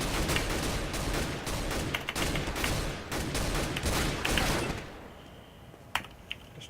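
A decoy grenade mimics gunfire in Counter-Strike: Global Offensive, rattling off rapid bursts of fake shots that stop abruptly, followed by quieter moments with a couple of sharp clicks.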